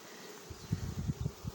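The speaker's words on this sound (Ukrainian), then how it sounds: "Так, бджілки в нього пішли." Honeybees buzz inside an opened hive, a close, low droning hum with pulsing swells that starts after a brief quiet moment, with no talking.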